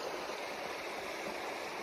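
The Wood River flows beside old pines at a campsite, a steady, full rushing murmur that stays close and constant throughout with no voices.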